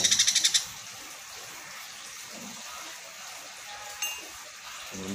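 Baby sun conure giving a quick run of sharp repeated calls at the start while being hand-fed, followed by quieter background noise and a faint later squeak.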